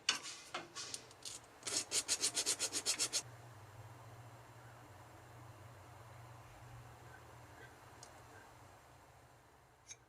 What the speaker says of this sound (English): putting in a few scrapes and gouges into it will help the super glue bond to it a little bit better